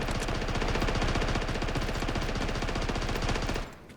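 A teammate's automatic weapon rattles off a long, unbroken, rapid burst in Delta Force, loud and steady, before stopping abruptly near the end.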